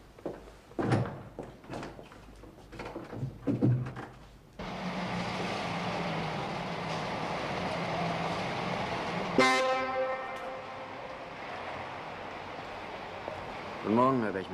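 Talk, then a steady roar of engine noise, followed by a loud, sustained car horn blast with a shorter honk near the end.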